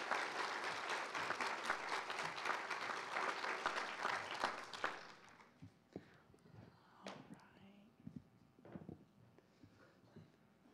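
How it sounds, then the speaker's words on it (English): An audience at a white coat ceremony claps loudly and steadily for about five seconds, then the applause fades to scattered claps, shuffling and faint murmurs in the hall. "would you please offer some applause to Dr. Spencer?"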